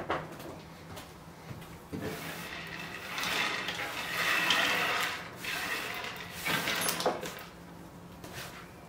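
A screwdriver backs screws out of a Metz Axio 32 CT television during a teardown, producing close ratcheting and grinding mechanical scrapes in uneven bursts, with no talking.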